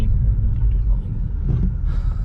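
Tuned BMW M135i with 430 horsepower, a deep, steady engine rumble that stays loud and close without a break, with only faint background voices.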